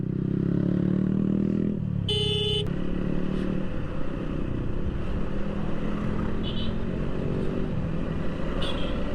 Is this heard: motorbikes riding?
yes